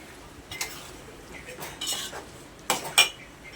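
A spoon stirs vegetable biryani gravy with onion in a metal pot, giving a few scattered scrapes and clinks over a quiet kitchen background, the loudest two knocks coming near the end.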